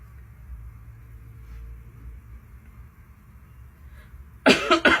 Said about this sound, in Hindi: थोड़ी सर्दी खांसी हो रखी है भाई को